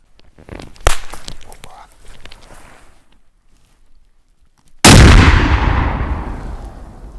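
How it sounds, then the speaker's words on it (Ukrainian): An RGD-5 hand grenade detonates during explosive testing of soft ballistic armor panels: faint clicks and handling noises come first, then one loud, close blast that rolls into a long, fading rumble. "Продовжуємо тестування граната РГД-5."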